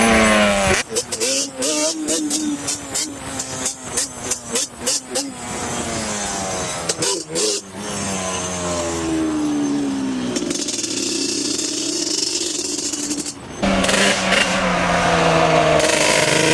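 A motorcycle engine revs hard in quick bursts during a test ride, loud and close, then settles into a sustained rising and falling drone as the bike pulls away, with wind rumble.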